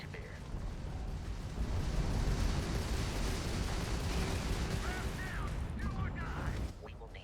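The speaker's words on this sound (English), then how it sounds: "that's a Crimson Fleet ship bringing its weapons to bear" Starship weapons fire from a hostile Crimson Fleet vessel during Starfield space combat: a sustained loud rumbling barrage with bursts and pops, later joined by faint chirping tones before cutting off.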